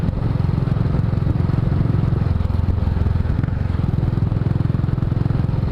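Royal Enfield Classic 500 single-cylinder engine running at a steady idle, close and loud with an even thumping pulse and a rattly clatter throughout.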